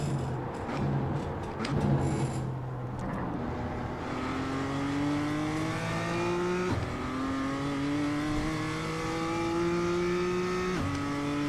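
A BMW M2 engine lapping Tsukuba circuit, revving up through the gears in rising sweeps with sharp shift breaks, loud and close from inside the car, with no talk.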